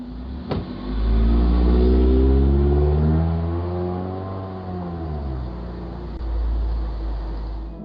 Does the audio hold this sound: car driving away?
yes